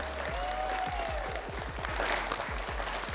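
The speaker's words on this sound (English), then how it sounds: "Ladies and gentlemen, please make sure you must be clapping from the bottom of your heart." Audience applause for the panelists at a sports and wellness panel event: a steady wash of crowd clapping, with a brief gliding tone and a run of low thumps.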